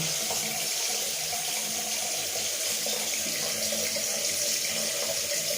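A tap runs steadily into a sink to rinse a Gillette Mach 3 razor, a loud, close, unbroken rush of water throughout.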